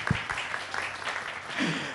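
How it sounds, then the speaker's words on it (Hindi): Studio audience applause during a Ramadan iftar television broadcast, a steady wash of clapping that carries through the whole short stretch at moderate loudness. "तो मेरी वाइफ के लिए तालियां बजाएं।"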